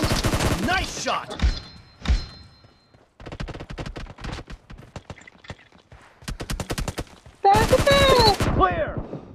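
Bursts of automatic gunfire from an 8-versus-8 team deathmatch in PUBG Mobile, rapid cracking volleys arriving in clusters with short gaps, loud and close, with brief voice chatter mixed in.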